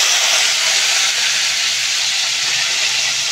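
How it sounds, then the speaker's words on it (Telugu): A paste of onion, ginger, garlic and green chili for a murrel fish curry sizzles loudly in a hot pan, a steady close hiss with no voices. "ఇందాక పేస్ట్ చేసి పెట్టుకున్న ఉల్లిపాయ, అల్లం, వెల్లుల్లి, పచ్చిమిర్చి పేస్ట్ వేసుకుందాం."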